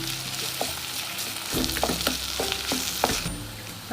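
Potatoes stirred and fried in a pan with onion and tomato for potato masala, a steady close sizzle with several scraping stirs and clinks of the spoon, no voices.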